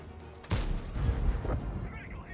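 A tank cannon fires a high-explosive shell in the World of Tanks game, a single sharp booming report followed by a rumbling decay and faint background game noise.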